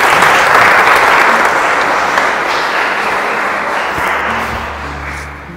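Sustained applause from a crowd at a church wedding ceremony on a pilgrimage, dense and steady clapping that fades slightly toward the end.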